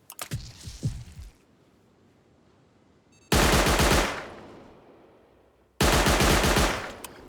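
Electric turrets in the game Rust fire two loud, sustained bursts of automatic gunfire, each starting abruptly and lasting a couple of seconds. A fainter clatter of impacts comes first.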